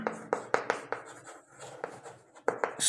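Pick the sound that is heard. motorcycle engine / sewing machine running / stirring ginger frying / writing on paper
writing on paper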